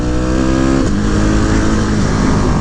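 A Husqvarna 701 Supermoto single-cylinder motorcycle engine revs hard, drops briefly as it shifts up a gear, then pulls strongly again, loud and close with no talk.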